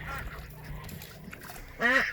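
A duck lets out a loud, nasal honking call near the end, following quieter rustling and faint distant calls of ducks and chickens in a garden.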